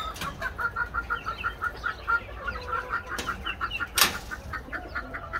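Chickens clucking steadily inside a coop, a rapid rhythmic series of close, moderately loud clucks with a brief wing flap or bump partway through, no talking.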